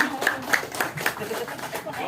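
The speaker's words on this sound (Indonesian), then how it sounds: "Oke, tepuk tangan" A small group at a community outreach meeting claps in a quick, rhythmic beat, with sharp individual hand strikes standing out under ongoing talk.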